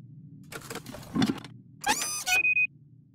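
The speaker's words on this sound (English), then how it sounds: "Use one of the gears in your inventory with the engine of the town model." Gear fitted into the engine of a town model in a point-and-click video game: short clicks and a mechanical clatter, then a brief metallic clunk and a high ringing tone, near and clear with no talking.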